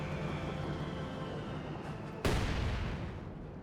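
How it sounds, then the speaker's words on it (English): Mortar barrage in the strategy game Company of Heroes 2, a dense rumbling wash of artillery fire with a sharp, loud impact boom breaking in partway through and then rolling on. "Mortar barraging somewhere."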